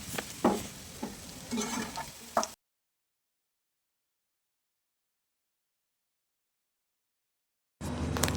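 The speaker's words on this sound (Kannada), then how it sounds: "ಮೀಡಿಯಂ ಉರಿಯಲ್ಲಿ ಇಟ್ಟು ಫ್ರೈ ಮಾಡಬೇಕು ಹಾಗಲಕಾಯಿಯನ್ನು" Sliced bitter gourd fries over medium heat in a pan, with sizzling and the scrape of stirring for a few seconds before the sound cuts out and returns briefly near the end.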